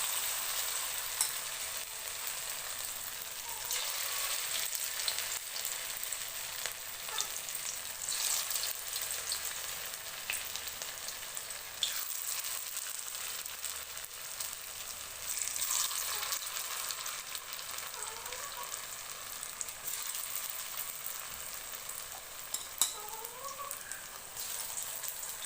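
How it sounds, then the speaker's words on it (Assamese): Pakoras fry in hot oil in a wok, a continuous close crackling sizzle with scattered pops and occasional stirring scrapes throughout. "মই পকৰিখিনি বনাব ওলাইছোঁ। কেৰাহীত তেল গৰম হৈছে"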